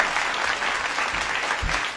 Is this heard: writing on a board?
no